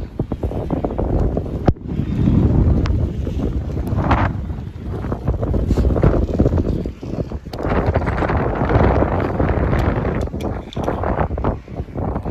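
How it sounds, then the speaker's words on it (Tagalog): Strong, cold wind buffets the microphone on a long Tibetan-style suspension footbridge in Sellano, Italy, with a continuous low roar and rumbling gusts, loud and close, with no voices. "natitinig nyo naman siguro kung gaano kalakas ang hangin"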